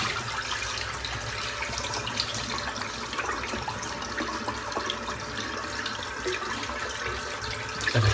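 Water pours steadily from a sink tap in a continuous close rush that stays even throughout, with no talking over it.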